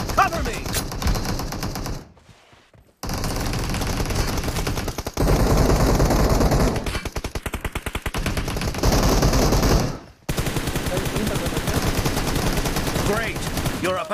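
Dense automatic gunfire from the PUBG Mobile video game, with long rapid bursts of shots separated by a few short pauses. Excited voices talk over the firing.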